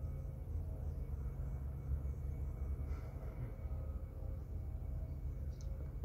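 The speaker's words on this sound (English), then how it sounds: "there's an airplane" An airplane flies overhead, a faint, distant, steady low rumble and wash of noise that holds evenly throughout, with no talk.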